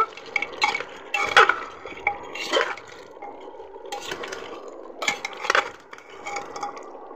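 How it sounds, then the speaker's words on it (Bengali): Beef curry with potatoes and jackfruit seeds stirred in a pot, with intermittent scraping and clinking of a spoon against metal, close and moderately loud, no talking. "এই যে আলু আর কাঁঠালের বিচিটা দিয়ে আমি একটু ভালো করে নেড়ে চেড়ে নেব।"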